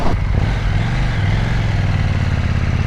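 A KTM 790 Duke motorcycle setting off, its parallel-twin engine a loud, steady low throb close by, running continuously with no voices.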